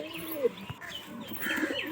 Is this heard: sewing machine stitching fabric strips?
no